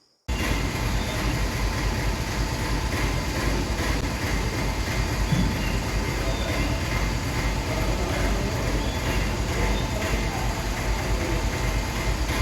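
A train at Kollengode railway station gives a loud, continuous rumble that starts abruptly and holds steady and close for about twelve seconds, with no voices over it.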